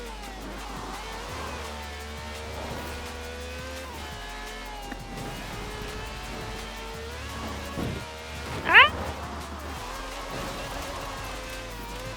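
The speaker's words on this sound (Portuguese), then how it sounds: "Eu achei que eu ia deixar metade do carro naquele trator" A car in the Forza Horizon 4 racing game runs with a steady engine drone and tyre noise, then a short, sharp crash impact hits near the end as it strikes a tractor.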